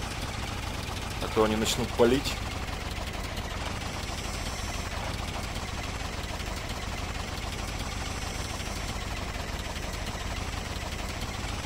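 A car engine in the video game STALKER OGSE 0.6.9.3 drones steadily at a low, even idle for the whole stretch, with someone briefly talking over it near the start.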